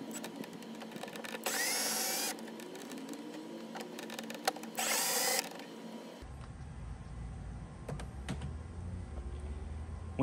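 Small Torx bolts are backed out of an HID headlight unit, giving close, intermittent clicks and metallic ratcheting with short bursts of louder, whirring tool noise between quieter stretches.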